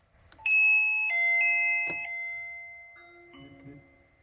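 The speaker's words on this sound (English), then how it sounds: "let's try a doorbell press" An electronic doorbell chime plays a few sustained tones in sequence, clear and close in an otherwise quiet room.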